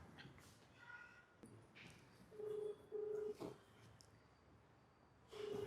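Telephone keypad dialing tones during a tense moment among friends, three short steady beeps, the last cut off at the end, with faint voices and rustling between them.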